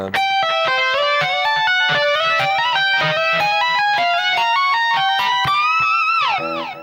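A distorted electric guitar slowly picks out a lick from a guitar solo, notes stepping one by one with a steady rhythm, loud and close, ending on a sliding bend.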